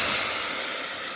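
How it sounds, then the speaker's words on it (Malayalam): Water poured into a hot pan of fried lentils (parippu) with vegetables sets off a loud, steady hiss of steam that slowly fades. "നമ്മൾ വെള്ളം ഒഴിച്ച് കൊടുക്കാം."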